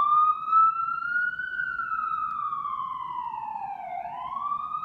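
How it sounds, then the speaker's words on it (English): Emergency vehicle siren passing, a single loud wailing tone rising and falling slowly, then dipping and climbing again as it goes by, with faint background noise underneath. "Let me hold for the siren."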